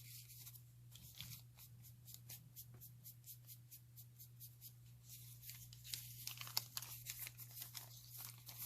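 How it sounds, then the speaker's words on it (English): A paper map is folded along its creases, giving a run of dry crinkling and rustling bursts at close range over a constant low hum. "Catching all the edges of the creases and the folds as much as I can. Folding it that way."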